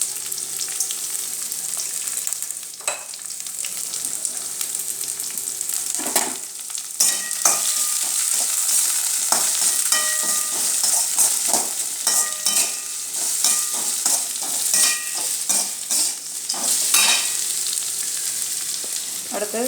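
Onions frying with rock salt in hot oil, a dense continuous sizzle close up, with frequent scraping and clinking stirs of a spoon in the pan and no talk.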